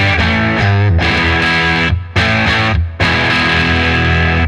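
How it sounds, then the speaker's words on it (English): Heavily distorted electric guitar through a Decade distortion pedal plays thick sustained chords, loud and close, with abrupt stops and restarts between strummed phrases. "Let's go hear what the Decade sounds like."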